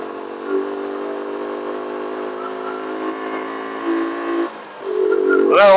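A motorbike engine idles with a steady drone on the road to Anini, then dips and stumbles as it falters, followed by a sudden rising rev at the end.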